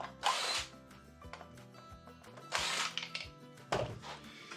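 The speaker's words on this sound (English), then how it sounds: "I have to release the screws off the back of it here." A power tool backs screws out of the back of a wooden box joint jig in three separate whirring bursts, each a second or so long, close up in a quiet workshop with no talk.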